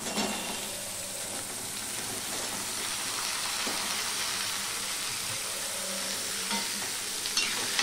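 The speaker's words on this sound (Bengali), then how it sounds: "এবার আমি এই সবজিগুলো দিয়ে দেবো।" Mixed vegetables for a Bengali niramish labra hiss and sizzle steadily in a pan after ginger tempering, with scraping stirs cutting through the continuous frying; no one speaks.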